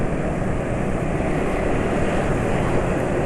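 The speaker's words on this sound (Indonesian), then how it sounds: "Suara mesin juga enggak terlalu asak-asak" A Jumbo diesel engine, freshly filled with Fastron Techno 15W50 fully synthetic oil, runs with a steady, dense broadband drone, loud and close with no talk.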